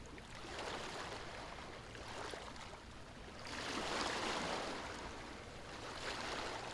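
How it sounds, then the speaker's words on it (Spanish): Soft ocean waves wash in a steady, broad rush that swells louder around the midpoint and stays continuous, with no voices. "el sonido interminable de las olas suaves"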